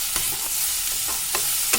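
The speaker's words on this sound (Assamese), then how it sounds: "বহুত বেছি ভাজি নাপালাব সৰিয়হখিনি" Mustard paste sizzles loudly in a hot pan while a spoon stirs it, with a dense hiss and quick scraping strokes repeating every half second or so.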